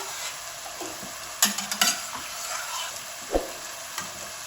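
Chickpeas and mashed potato sizzle steadily in a hot pan while a spoon scrapes and stirs, with a few sharp clinks of utensil against metal over the constant frying hiss.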